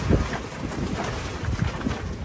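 Gusty wind buffeting a microphone outdoors at a boatyard during haul-out, a steady low rumble with several stronger gusts swelling and fading throughout, no voices.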